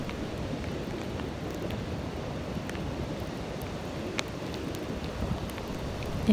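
Steady rain falling on an Atlantic beach, a dense, continuous hiss and patter with low rumbling surf or wind underneath, fairly even in loudness throughout with no voices.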